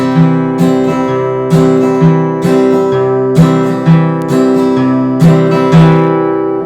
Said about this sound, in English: we're going to use a strumming pattern that I call the boom chicka